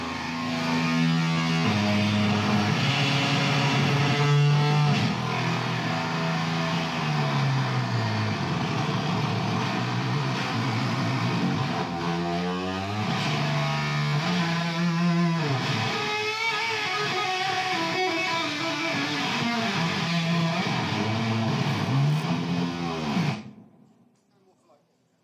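An electric guitar is played through a Torn Speaker fuzz pedal at a guitar show, giving a thick, rumbling, sustained tone with sliding pitch bends that cuts off abruptly near the end.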